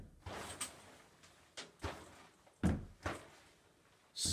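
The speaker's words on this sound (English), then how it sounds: "When you go inside and open the door, the shower curtain bangs a couple of times." A shower curtain bangs and thumps several times in a bathroom after the door opens, with irregular dull knocks and rustles up close.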